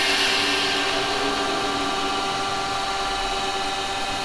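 A woodturning gouge cuts slowly into wood spinning on a lathe, giving a steady, continuous broadband hiss and whir with a constant motor hum beneath it, close and loud for the whole stretch without pauses.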